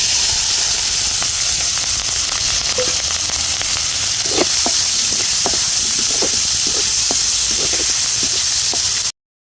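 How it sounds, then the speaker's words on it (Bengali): Onion and chili hit hot oil left from frying pangas fish over a clay stove, giving a steady close broadband sizzle scattered with sharp crackling pops, with no talking. "মাছ ভাজা তেলের মধ্যে আমি এখন দিয়ে দিচ্ছি পেঁয়াজ"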